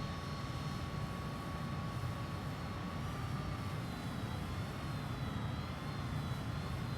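MiG-21bis jet with its afterburner lit in Microsoft Flight Simulator 2020 gives a constant, quiet engine roar with a thin high whine running underneath, and no talk.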